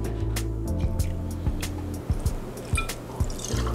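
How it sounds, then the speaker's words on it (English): Gin poured from a bottle for a Tom Collins cocktail, a steady close liquid stream with soft drips and glugs over several seconds, no talk. "Now we want to do for the Tom Collins, we're going to do 2 ounces of gin."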